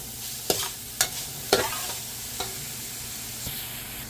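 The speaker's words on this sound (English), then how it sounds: "Then I'm going to add my carrots and my celery." Garlic, carrots and celery sizzle in a pot for pigtail bhagi rice, a steady hiss under five or six scraping stirs of a spoon against the pot, close up and with no talking.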